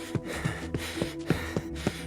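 Panting sound effect for a story as someone returns out of breath from running: a rapid, evenly spaced series of about seven short heavy breaths over a low musical background.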